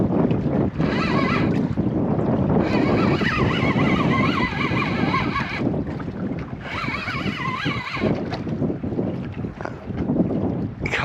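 Wind buffets a small fishing boat on Southampton Water, roaring steadily and loudly against the microphone throughout, with gusts rising and falling over the constant rush.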